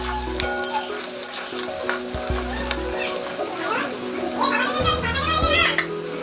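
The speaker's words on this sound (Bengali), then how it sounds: "আলুগুলো আমার লাল লাল করে ভাজা হয়ে গেছে" Potatoes, lightly seasoned with turmeric, fry in hot oil as a dal bora curry is made, a steady crackling sizzle with occasional stirring scrapes and faint clinks throughout, close and moderately loud.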